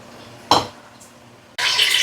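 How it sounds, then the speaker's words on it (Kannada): Onions frying in a mix of oil and ghee for chicken biryani, starting with a sharp clatter and then settling into a loud, steady sizzle that carries through to the end, with no one speaking. "ಆ ಎಣ್ಣೆಯಲ್ಲಿ ಈಗ ನೀರುಳ್ಳಿ ಫ್ರೈ ಮಾಡ್ತಾ ಇದ್ದೇನೆ"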